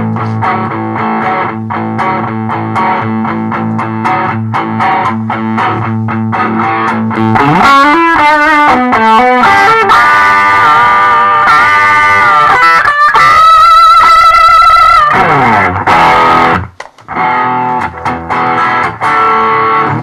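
Heavily distorted electric guitar through a Digitech Hotrod and Behringer EQ700 chugs a chord rhythm, then shifts into sustained, ringing notes and squealing lines, loud and continuous.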